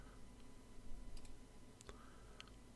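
A computer mouse gives a few soft, separate clicks against quiet room tone, faint and spaced out, with no voices.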